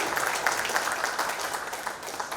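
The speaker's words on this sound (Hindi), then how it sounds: "आप सभी की जोरदार तालियों के साथ स्वागत करते हुए" Audience at a silver jubilee ceremony of the Military Engineering Services and Builders Association applauding to welcome a guest, a steady wash of clapping with a few louder individual claps standing out, fairly close.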